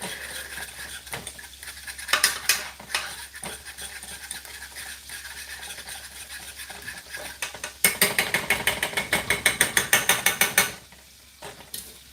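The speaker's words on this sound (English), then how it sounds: "you gotta keep stirring it because you don't want it to get lumpy. But I guess it's not stirring if I'm using a fork, right?" A fork stirs food in a pan while turkey burgers are cooked for dinner at home, giving rapid scraping, clicking strokes that come in bursts, with a dense rhythmic run near the end.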